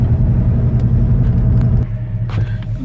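A 1969 Dodge Charger 500 Daytona idles with a deep, loud rumble, then shifts as it starts to pull away gently on gravel, the engine tone dropping and steadying.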